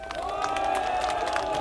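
Supporters at the People Power Party leadership campaign launch rally for candidate Cho Kyung-tae keep up steady applause and cheering, a dense, continuous wash of crowd noise with scattered shouts.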